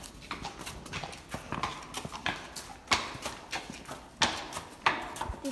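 A horse's hooves clip-clop at a stable yard, with irregular, fairly close strikes and a few sharper louder steps, and no talking.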